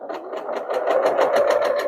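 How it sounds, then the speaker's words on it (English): A sewing machine stitches pieces of a quilt block, a close, rapid and steady mechanical whir with evenly spaced needle clicks, running alone for a couple of seconds. "we're going to just turn it and sew."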